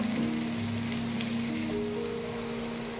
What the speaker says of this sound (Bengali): এখানেতে পেঁয়াজটা ভেজে নিচ্ছি মাছের ঝালের জন্য।